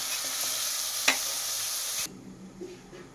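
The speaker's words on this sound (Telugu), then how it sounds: "కల్లుప్పు వేసి ఇంకొకసారి కలపాలి" Mushroom curry with rock salt is stirred in a pan, giving a steady close sizzle and scraping for about two seconds with one sharp clink, then the sound drops to quieter, softer stirring.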